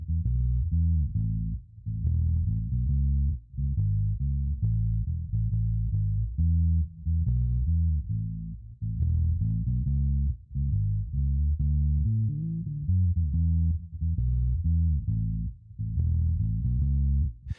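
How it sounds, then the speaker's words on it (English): A bass guitar recorded direct plays a run of deep, sustained notes, compared with and without a stock compressor and picking up slightly more low-end distortion when compressed, loud and steady with no voices. "We get a little bit more bottom end distortion with the stock compressor"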